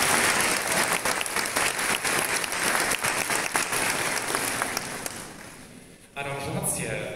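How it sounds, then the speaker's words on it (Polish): A concert audience at a New Year holiday concert in Rumia gives sustained, dense applause that runs loud and steady for several seconds, thins out toward the end, then resumes. "Wielkie brawa dla wszystkich artystów."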